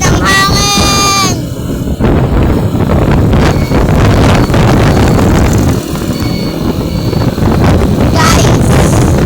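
Strong wind buffets the microphone outdoors in Pampanga with continuous loud low rumbling gusts across the whole stretch, with a brief high whistling tone at the start and short shouts at the start and end.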